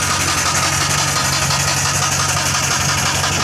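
A car that sat outside through a cold night idles with a loud, steady, close engine rumble and vibration, holding an even tone from start to finish with no voices over it.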